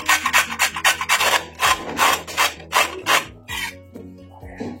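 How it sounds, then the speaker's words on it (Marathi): Peeled beetroot rubbed against a coconut grater in quick rhythmic strokes, a series of loud close rasping scrapes about every third of a second, slowing near the end, alone without talk. "आता याला मी किसून घेणार आहे। आपण खोबरं किसतो त्या खोबरं किसण्याने मी इथे हे किसून घेतो।"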